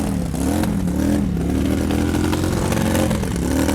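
A Royal Enfield Gorilla 450 motorcycle fitted with a custom exhaust runs close by at a bike show, its loud, throbbing engine note holding steady with slight rises in pitch and no speech.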